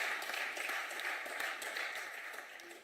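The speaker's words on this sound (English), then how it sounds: "I'm glad to see that you yourself are applauding" Members of parliament applaud in the chamber, a faint, dense clapping that fades slightly toward the end, heard alone without talk.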